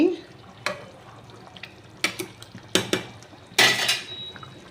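Potatoes tossed into a pan of Bengali chicken curry: a few sharp metallic clanks of a spoon against the pan over a soft frying sizzle, with quiet gaps between the knocks.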